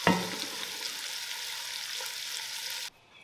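Chicken pieces sizzle and fry in a cast iron pot for jambalaya, a steady hissing crackle with a stirring clatter at the start before the sound cuts off abruptly.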